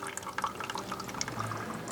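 Water drips and trickles steadily through a Sawyer Point Zero Two water purifier filter, a continuous close, busy liquid patter with small splashy accents throughout.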